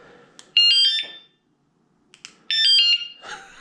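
A small electronic package-theft alarm shrieks in two loud, piercing bursts of warbling high tones separated by a short pause.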